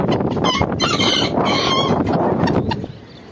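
A Bermudian rooster, a fancy chicken breed, crows nearby amid loud, steady barnyard clucking and fowl noise that fades slightly at the end.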